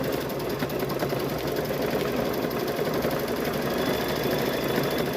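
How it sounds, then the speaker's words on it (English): Sewing machine stitching binding onto the edge of a quilted fall table runner, a steady close mechanical whir with rapid even needle rhythm running unbroken throughout. "And I bind it with the sewing machine."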